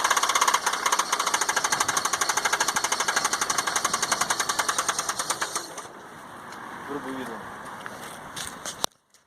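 A knocking Alfa Romeo car engine hammers out a fast, steady metallic clatter up close for several seconds, then cuts to quieter idle-like noise with brief talk before stopping.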